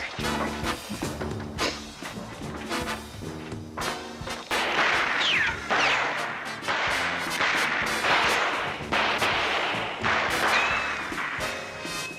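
Dense, rapid gunfire from a comedy shootout in the TV series Police Squad!, with bursts of sharp cracks and ricochet whines layered over music, loud and continuous throughout.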